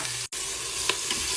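Onions sizzling and frying in pepper-infused spiced oil for a Tunisian-Moroccan chebtiya dish, a steady close crackling hiss with a brief drop near the start and a couple of small stirring clicks.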